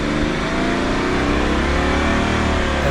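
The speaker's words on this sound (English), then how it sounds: "And again, the engine revving there" An Ineos Grenadier engine revs hard off road in manual mode without shifting, a loud, steady, close mid-pitched roar that holds throughout.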